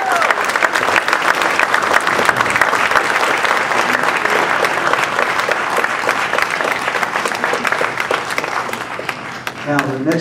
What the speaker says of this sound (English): Once again, a large round of applause for Mel Ruiz.